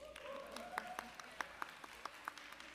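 Scattered, fairly light clapping from a small audience, with individual sharp claps picked out over a low room murmur.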